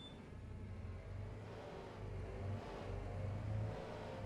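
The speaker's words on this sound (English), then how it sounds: "At least I now have a working tractor." A tractor diesel engine in Farming Simulator 25 runs at a steady low rumble, rising slightly in level, with no talk over it.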